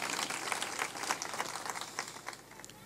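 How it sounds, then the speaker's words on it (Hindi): An audience at a religious discourse in Chhindwara claps, a dense moderate-volume patter of many hands applauding steadily for a few seconds without speech. "ताली बजाकर उनका अभिनंदन कर"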